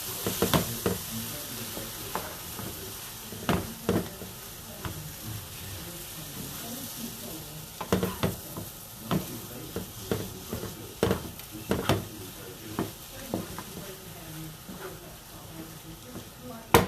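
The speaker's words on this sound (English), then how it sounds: "Time to give it a good stir." Potatoes, egg and vegetables sizzle steadily in a pan for breakfast, with a constant frying hiss broken by repeated scraping stirs of a utensil against the pan, close up and fairly loud.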